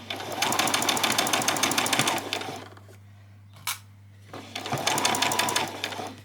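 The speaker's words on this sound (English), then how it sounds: "So I'm going to start by doing the top line of stitching." A sewing machine stitches a line along the edge of a ruffle, running in two fast, steady bursts of rapid needle clatter with a short pause between them over a constant low hum.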